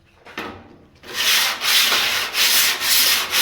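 An 80-grit sanding block, worn down, scrubs across the high spots of a rusty old Dodge's steel body panel in loud, rhythmic back-and-forth strokes after a brief quiet start.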